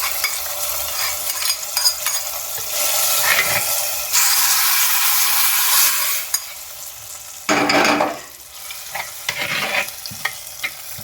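Hot oil sizzles and crackles steadily in a pan as spices fry for a gongura pulusu tempering, with bursts of louder hissing and occasional stirring.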